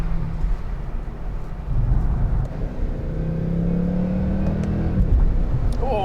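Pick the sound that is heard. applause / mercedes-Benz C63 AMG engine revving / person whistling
mercedes-Benz C63 AMG engine revving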